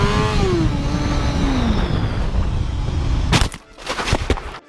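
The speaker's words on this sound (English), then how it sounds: "That's a motorcycle." A motorcycle engine revs hard and accelerates nearby, a loud rising and falling whine that holds for about three seconds before breaking off into abrupt sharp bangs and scraping noises.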